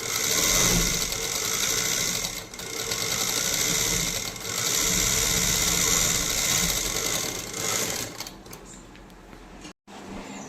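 Sewing machine bought for a boutique running steadily and loudly for about eight seconds with a mechanical whirring rattle, briefly pausing, then slowing and stopping near the end as it is moved forward and back.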